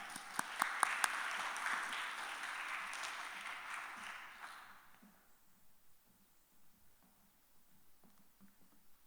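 A church or seminary audience applauds to welcome a pastor to the pulpit, a moderate spread of clapping with a few sharp louder claps early, fading out after about four seconds into quiet room tone.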